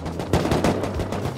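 AK rifle fire in a video game, a rapid automatic burst of many crisp shots in quick rhythm, close and moderately loud, with no voices.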